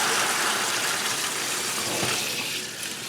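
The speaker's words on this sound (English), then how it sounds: "I'm going to drain it off into my colander a little bit here" Water from rinsed peas pours steadily through a colander, a loud, continuous splashing rush that stays close and unbroken throughout.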